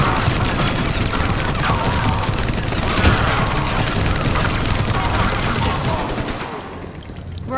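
Dense, continuous automatic fire from a turret mixed with explosions rattles loud and close in Mass Effect 3 on Omega, fading slightly near the end.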